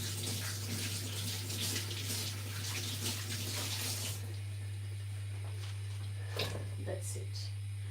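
Tap water runs steadily over white cabbage being washed for soup, a continuous hissing splash under a steady low hum, growing quieter and thinner partway through with a few brief splashes after.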